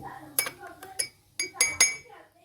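A metal spoon clinks against a cup while adding yogurt to milk for nut basbousa, five or six sharp, bright taps spaced irregularly, close and clear.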